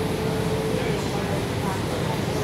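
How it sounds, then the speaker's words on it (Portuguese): Inside a Série 8900 train on São Paulo Line 9, a steady rumbling ride noise with a faint constant hum runs continuously. "Uma viagem aqui sentado no trem"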